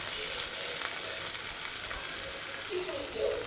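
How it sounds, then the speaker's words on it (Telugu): Ginger garlic paste fries in hot oil for an okra and tomato curry, giving a continuous close sizzle that stays even throughout with slight surges near the end. "అల్లం వెల్లిగడ్డ పేస్ట్ కూడా నూనెలో బాగా వేగాలి."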